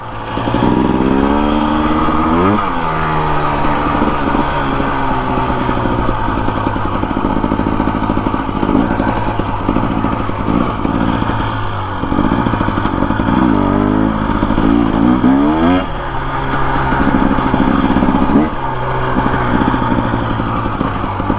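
A Husqvarna TE250 dirt bike rides a bumpy two-track trail in Kelly Canyon, Arizona, its single-cylinder engine droning loud and close, rising and falling with repeated revs, gear changes and throttle bursts, with chassis clatter throughout.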